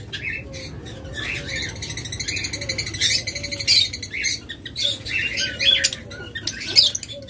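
Pet birds from a breeding pair offered for sale squawk and chirp in bright repeated bursts, close and fairly loud, with rising calls between them and a steady low hum behind.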